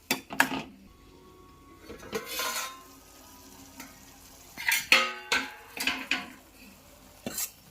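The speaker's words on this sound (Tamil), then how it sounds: "சேர்த்துட்டு இதை வந்து கொஞ்சம் நேரம் கிண்டி விடுங்க" Spoon stirring sambar with chilli powder in a pot, scraping and clinking in scattered close strokes over a soft sizzle, with quiet gaps between the stirs.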